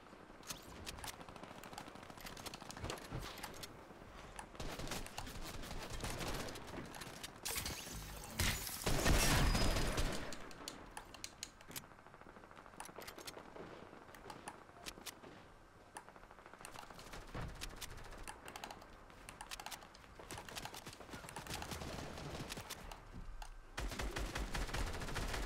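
Gunfire in Fortnite, rapid faint bursts of shots scattered across a busy in-game soundscape, with a louder crashing spike partway through and no voices.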